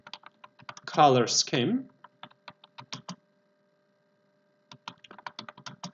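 Keys clatter on a computer keyboard in short bursts of quick clicks, pausing mid-way, while a voice speaks briefly over the typing near the start.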